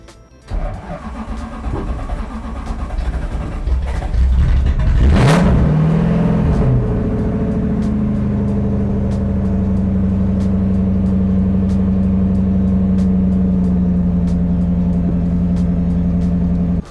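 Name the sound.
car engine starting and revving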